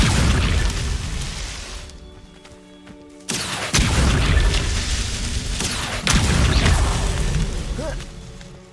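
Incendio fire spell cast in Hogwarts Legacy, heard as loud booming bursts of fiery sound with whooshing swells, one at mid-clip and another near the end over a steady game backdrop.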